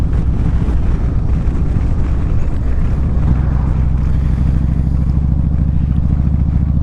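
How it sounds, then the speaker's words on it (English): A Honda Rebel 1100 motorcycle with a DCT gearbox rides through traffic. Its steady low engine rumble runs under loud, constant wind buffeting on the microphone, and the note settles into a firmer drone partway through. "the new Honda Rebel, the 1100 Honda Rebel. And of course, I gotta ride it with the DCT."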